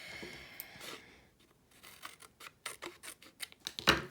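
Scissors snip through a piece of paper during a Christmas bag and matching card craft, a run of quick close crisp cuts with a rustle of paper, alone without talk.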